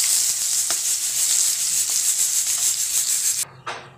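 Dal bori and chopped coriander fry in a pan, giving a steady close sizzling hiss with faint stirring scrapes that cuts off abruptly near the end.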